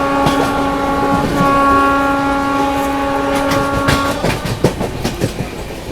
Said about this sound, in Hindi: अभी गोविंदपुरी स्टेशन हम लोगों की ट्रेन यहाँ पर स्किप मार रही है।